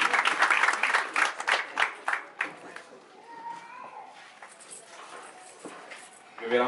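A short burst of audience clapping at a welcome ceremony in Burkina Faso, fading to scattered claps and quiet murmurs, with a voice returning at the very end.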